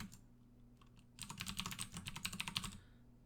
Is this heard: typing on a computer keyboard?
yes